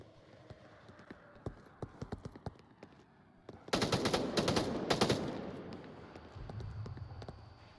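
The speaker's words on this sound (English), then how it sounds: "Got some covering fire coming in there from Apollo" Gunfire in a competitive tactical shooter match: a slow series of sharp single shots, then a dense loud burst of rapid automatic fire that trails off into lower rumbling noise.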